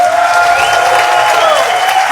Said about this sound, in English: Let's give a round of applause for all of our heroes.